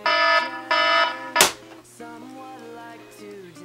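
An alarm clock rings with loud, harsh buzzing bursts, then a sharp slap and quieter lingering tones.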